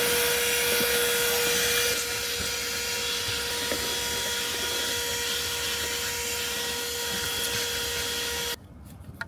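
Portable car vacuum fitted with a hose attachment sucking up debris, a constant loud motor whine with airflow roar and small rattles of picked-up bits, running steadily before cutting off near the end.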